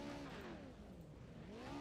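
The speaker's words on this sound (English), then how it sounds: "I hear him revved up and ready to go." A race car engine revs in a racing video game featuring Pro 2 Lites at Limaland, a continuous loud drone whose pitch dips and then climbs again.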